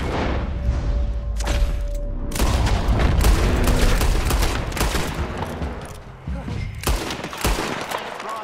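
Gunfire rings out during a legendary bear hunt in Red Dead Redemption 2, loud repeated shots and booms in bursts over a rumbling game soundscape, with a brief quieter gap before more firing.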